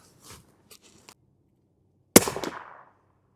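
A single sharp shot from a Faxon FX7 bolt-action rifle in 8.6 Blackout fitted with a Dead Air Primal suppressor, a loud close crack with a brief decaying tail after a few faint handling clicks.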